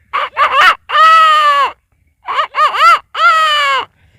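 A voice imitates a rooster crowing, delivered as two close, loud multi-part phrases of short rising notes ending in a held tone, with a brief gap between them.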